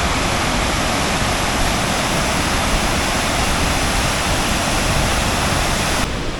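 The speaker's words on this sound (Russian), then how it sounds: "Такая бурная Малая Алматинка." Turbulent mountain river Malaya Almatinka rushing, a loud, dense, unbroken roar of whitewater heard up close, steady from start to finish with no voices.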